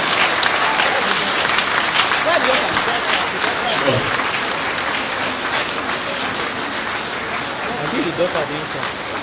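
Audience applause at an induction ceremony for new members, a sustained, loud, even roar of many clapping hands filling the hall throughout, with faint voices underneath.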